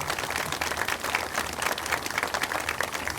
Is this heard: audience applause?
yes